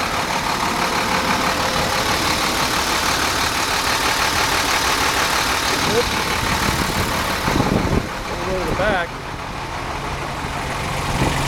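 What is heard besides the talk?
water truck diesel engine idling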